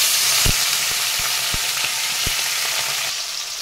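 Bata fish frying in hot oil in a pan, a constant loud sizzle and crackle with a few sharp clinks and taps of a utensil against the pan, steady throughout and fading slightly at the end.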